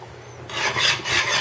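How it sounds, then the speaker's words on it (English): A spoon stirring vermicelli kheer scrapes the bottom of a pan in a short, close, rasping stroke that rises and repeats once. "keep stirring, otherwise it will burn on the bottom"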